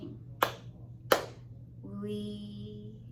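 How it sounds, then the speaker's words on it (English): Two sharp hand claps, well spaced, ring out at a children's sing-and-dance session, followed by a sustained tonal voice or melody. "let's clap our hands to start"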